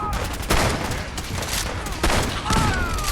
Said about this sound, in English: Alright, take some shots at him.